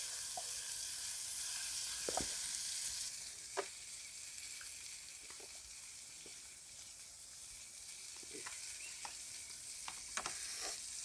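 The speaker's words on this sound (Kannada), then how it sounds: "ಸ್ವಲ್ಪ ಟೊಮೊಟೊ ಕುಕ್ ಆಗಲಿ ನೀಟಾಗಿ." Tomatoes for moringa egg bhurji sizzle steadily in a pan, a soft continuous frying hiss broken by occasional faint stirring clicks and pops.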